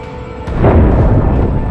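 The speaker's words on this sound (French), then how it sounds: "Le U-boat est secoué par les explosions." A deep, rumbling blast from depth charges bursts near a surfaced U-boat at sea. A heavy low boom swells suddenly and rolls on through the rest of the moment.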